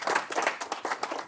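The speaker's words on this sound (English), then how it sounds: "we should give a big round of applause for our panelists" An audience applauds panelists at the close of a panel discussion, with distinct claps forming a fairly sparse, uneven patter of a modest group's hands, moderately near and a bit quiet, with no talk over it.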